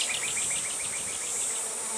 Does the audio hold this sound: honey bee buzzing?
yes